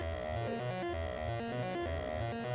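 A sine wave passed through a Snazzy FX synth filter comes out unclean: a dense, buzzy, harmonically rich drone with wobbling low pulses, steady and sustained with no voices.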